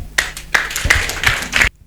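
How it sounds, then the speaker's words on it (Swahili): A small church congregation gives a brief round of clapping, a few sharp, uneven hand claps in quick bursts over under two seconds, ending abruptly. "Makofi."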